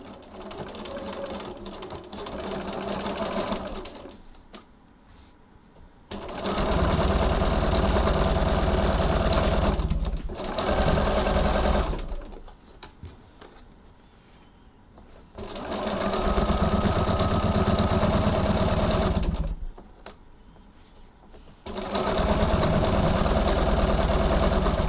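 A sewing machine stitching a tote bag lining seam at 2.4 stitch length: loud, close, continuous whirring runs in four long bursts separated by quieter pauses with faint handling noise.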